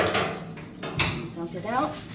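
Soaked millet being dumped into a metal strainer at a kitchen sink, a quick series of close clanks and rattles of metal and grain, with a voice over part of it.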